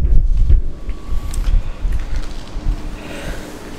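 Wind buffets the microphone beside a Nissan Skyline GTR R33 with coilovers, parked outdoors on a chilly day, giving steady low rumbling gusts with faint rustling, loud and close throughout.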